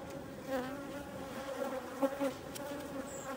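Bees buzz steadily and softly at a beehive colony, a continuous drone of many insects with no talk.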